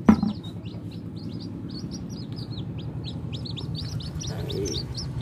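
Jungle fowl chicks peep in a steady run of high, thin chirps, several birds calling over one another close by, with a low background rumble throughout and no talking.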